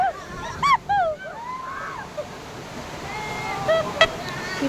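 On a Himalayan water rafting ride at an amusement park, water rushes and splashes in a steady, broad wash, with a few brief high-pitched squeals and chirps rising above it.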